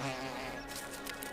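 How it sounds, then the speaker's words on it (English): Thread-waisted digger wasps buzzing as females dig burrows in sandy soil, a close, steady insect drone with no voices. "Their occupants? Thread-waisted digger wasps. In a buzz of activity, the females excavate burrows in the sandy soil."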